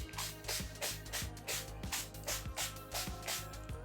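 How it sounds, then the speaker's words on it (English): An aerosol spray can hisses in short repeated bursts around a circle on a handmade bead board, the steady puffs evenly spaced and close, with faint clicking underneath. "take these spray, and spray it all around the circle here"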